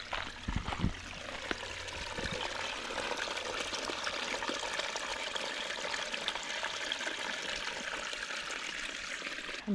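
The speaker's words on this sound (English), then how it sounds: "streams and waterfalls everywhere." Water rushes in streams and waterfalls near a lake by Upper Arrow Lake in Canada, a continuous, hissing flow at a steady level, with a few brief knocks near the start.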